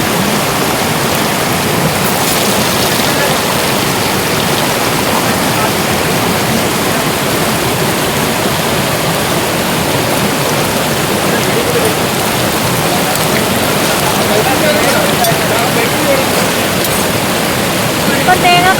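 Coconut pieces frying in hot oil with mustard seeds at an outdoor forest cooking spot, giving a steady, dense sizzle that holds loud and even from start to finish.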